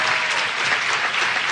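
An audience at a national youth conference claps warmly for a writer and poet, producing a brief, dense burst of applause that stays full and even.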